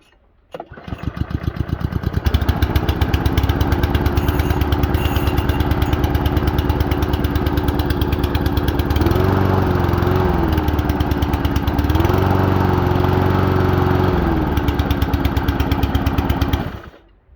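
A Steinhaus PRO-GLM503 petrol lawn mower engine catches after a brief pull and settles into a loud, steady drone, its pitch dipping slightly twice.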